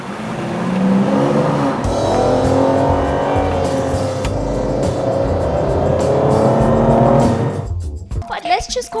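An Aston Martin Rapide drives at speed, its engine note loud and sustained with a broad rumble and rising tones, before the sound cuts off and gives way to brief rustling handling noise near the end.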